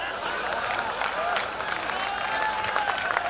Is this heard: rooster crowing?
no